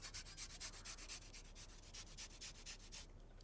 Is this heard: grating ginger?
yes